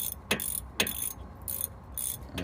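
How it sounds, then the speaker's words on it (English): A 14 mm wrench ratchets as a front brake caliper guide pin is tightened on a 2006 Hyundai Sonata, giving a string of close, crisp clicking bursts at a steady rhythm. "holding the 17 so that the guide pin doesn't move while I tighten it with the 14"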